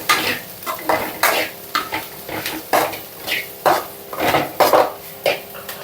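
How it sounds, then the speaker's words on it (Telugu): Potato, carrot, rice and spices are stirred in a pan, with rhythmic, close scraping strokes of a spoon against metal repeating every half second over a soft sizzle. "ఇప్పుడు వీటన్నిటిని మంచిగా కలపాలి."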